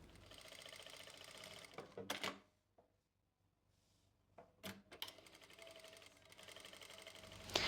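A sewing machine stitches buckram onto a top's neckline, running in fast whirring bursts broken by a quiet pause and sharp clicks, close and clear with no talking.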